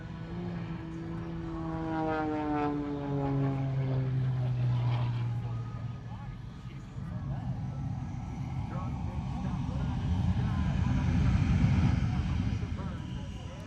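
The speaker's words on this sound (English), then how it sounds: "What you're hearing in the background is the F-16 Viper demo team getting ready after Melissa here." F-16 Viper fighter jets of a demo team running their engines at an air show, a distant, steady jet roar with a rising and falling whine, heard far off beneath nearby voices.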